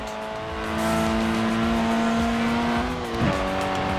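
A Lotus Elan, a light 1960s British sports car, drives in the video game Forza Horizon 4 with a revving engine drone that climbs in pitch, a brief gear change and a short tire squeal, loud and close with no talking.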